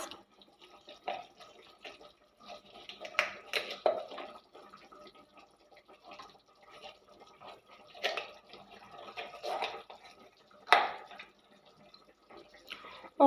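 Fish curry broth (kalia) simmers in a pan, giving soft, irregular bubbling and popping in small clusters. The sound is quiet and close, with a few sharper pops toward the end.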